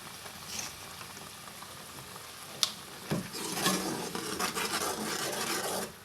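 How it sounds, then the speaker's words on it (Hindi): Tomato masala with coriander, red chili and salt frying in a pan: a soft hiss, then a sharp tap and rising scraping, rasping stirring as the sizzle grows louder and continues steadily. "टमाटर को अच्छे तरीके से हम लोग भून लेंगे जी"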